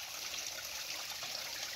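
Spring water from a hillside source pours steadily out of a pipe, a constant bright splashing rush with no pauses, close and even in level.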